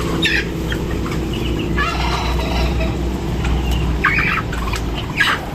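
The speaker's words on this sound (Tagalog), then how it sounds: "Nag-aaway yata yung pabo ko." Turkeys gobble and squawk loudly in agitated bursts, several harsh calls close by over a steady low background.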